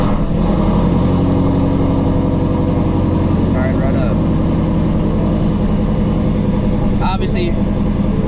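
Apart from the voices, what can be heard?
supercharged Shelby GT350 engine starting and idling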